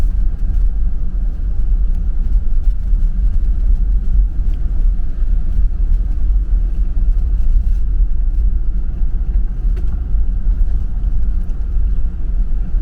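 A four-wheel drive vehicle rolls along a dirt gravel road in a wildlife management area, its engine rumbling low and steady throughout with constant tire and road noise, close and loud, with no talking.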